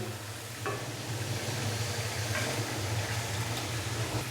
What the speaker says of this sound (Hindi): मसाले को हमने अच्छे से भून लिया है। तो अभी मैं इसके अंदर डाल दूंगा चिकन।